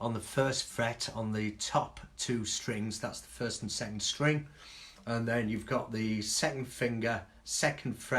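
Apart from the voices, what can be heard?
No everyday noises stand out.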